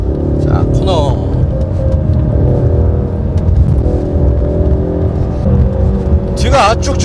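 A rear-wheel-drive Ford Mustang sports car corners along a winding road, its engine droning steadily and fairly loudly throughout, with a faint squeal near the end.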